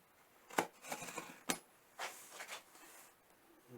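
A parcel being opened with a butter knife, heard as faint, quiet scraping and tapping clicks in short irregular bursts.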